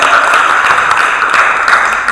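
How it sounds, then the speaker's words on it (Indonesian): An audience at a theology faculty's closing worship service gives dense, steady applause, sustained and fairly loud with no talking over it. "Boleh beri aplaus untuk angkatan"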